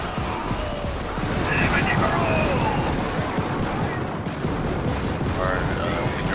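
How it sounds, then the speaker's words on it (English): Automatic gun turrets in the co-op shooter Helldivers fire a dense, continuous stream of shots with rumbling blasts underneath, loud and close, holding steady for the whole stretch. "your auto guns can take it out"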